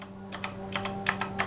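Keys typed on a Cosmic Bytes GK-30 mechanical keyboard with red switches give a run of soft, close keystrokes, loosely grouped in pairs and quick bursts over a low steady hum.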